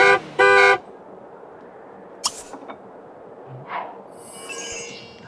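The Sims 3 car horn giving two short, loud honks at the start, followed by quieter game clicks and chimes, with no talk.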